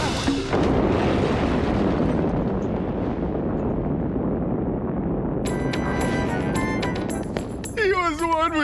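Bomb explosion rendered as a long, heavy rumbling roar that fills the scene and slowly fades, followed by sharp crackling and ringing tones near the end.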